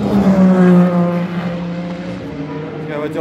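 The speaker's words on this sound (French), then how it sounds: "la voiture de tête vient de passer." A race car passes at the Le Mans 24 Hours, a loud engine tone near at first and then fading and dropping in pitch as it moves away, under an excited French commentary voice.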